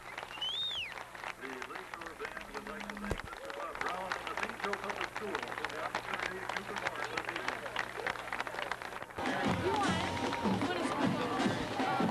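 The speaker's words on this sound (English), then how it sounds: "This St. Joe crowd is on its feet, applauding for this band." A stadium crowd at a 1989 St. Joe football game applauds and cheers a marching band after its halftime performance, a broad steady wash of clapping and crowd noise with a commentator talking over it.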